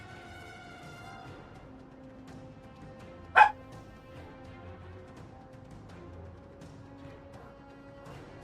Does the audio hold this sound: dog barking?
yes